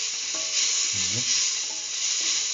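Salt and garlic mixture sizzles in a hot pan while being stirred, a constant loud frying hiss with a few soft scraping strokes underneath.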